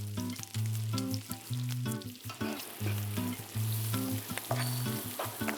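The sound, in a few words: puffed rice frying with onions in a pan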